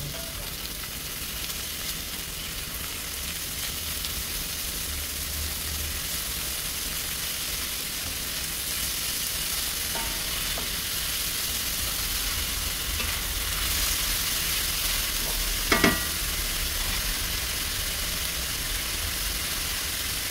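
Chicken, onions and meat sizzling steadily in a hot pan for cheesesteak, a continuous frying hiss with occasional scrapes and clinks of stirring, close and alone without talk.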